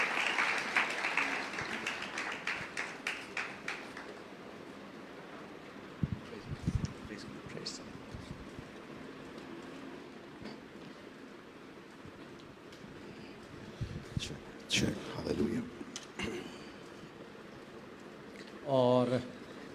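A church congregation at a deliverance meeting in Jabalpur claps to welcome a pastor, a burst of loud applause at the start that fades into scattered claps and murmuring amid room noise.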